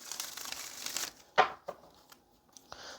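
Oracle cards being shuffled for a love reading: a burst of papery crinkling and riffling, then a sharp snap of cards and a few softer taps and slides, close and quiet with no talking.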